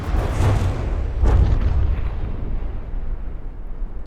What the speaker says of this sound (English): Large missile swarm going out.